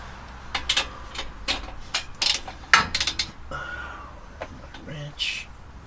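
A ratchet wrench turns bolts on an MBRP dump exhaust install, making close, sharp clicks in quick uneven bursts, then a brief metallic rattle near the end.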